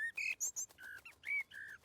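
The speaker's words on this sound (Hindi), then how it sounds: "वो चिड़िया हमें थैंक्स बोल रही है।" A cartoon bird chirps a quick series of bright, whistled tweets in short bursts, faint but clear with no other sounds.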